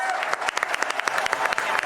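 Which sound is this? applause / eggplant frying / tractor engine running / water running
applause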